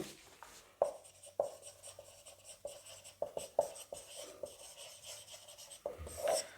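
Chalk or marker writing on a board during a chemistry lesson, a series of sharp taps and short scratchy strokes in irregular rhythm, fairly close and moderately loud with no talking.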